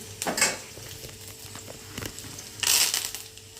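Curry leaves dropped into hot oil in a home kitchen crackle and sizzle in two loud bursts, with steady frying hiss and light stirring scrapes between them, close by and with no talking.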